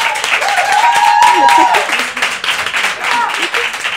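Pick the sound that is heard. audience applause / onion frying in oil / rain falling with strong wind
audience applause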